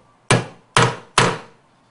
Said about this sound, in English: we're going to take our hammer and our center punch, and we'll go ahead and mark our hole locations